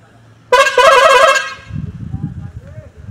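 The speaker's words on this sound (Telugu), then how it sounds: "ఇది వచ్చేసి హార్న్" A Bharat Benz BS6 tipper truck horn blasts loudly for about a second, with a short break partway through, then cuts off. Low rumble and faint noise follow.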